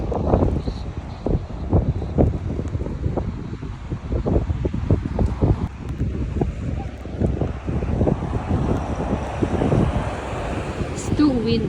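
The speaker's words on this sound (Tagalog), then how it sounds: "It's too windy." Strong wind blasts across the microphone outdoors during an Easter egg hunt, a constant loud rumble and roar, with people talking underneath.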